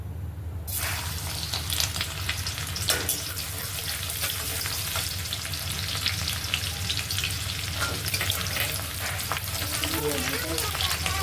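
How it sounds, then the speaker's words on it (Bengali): Chopped onion whites fry in hot ghee with a steady, dense sizzle close up, occasional stirring scrapes in the pan breaking through the continuous crackle. "আমি পেঁয়াজগুলির ভিতরের অংশটা সাদাটা কুচি করে রেখেছি দিয়ে দেবো"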